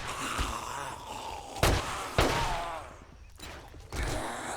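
Several sharp gunshots in 7 Days to Die, spaced irregularly, ringing out as loud isolated cracks over a steady background of game ambience.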